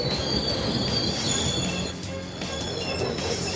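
A passenger train near Mumbai grinds along the rails, its wheels giving a sustained, piercing metallic squeal over a low rolling rumble, close and continuous, with no one speaking.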